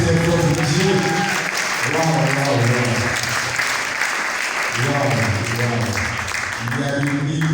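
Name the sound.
audience applauding at a book launch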